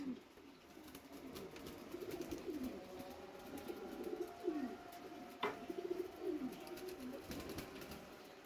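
Pigeons coo softly and repeatedly in a low, rolling rhythm over a steady background hum, with a faint chirp here and there, at a pigeon tournament.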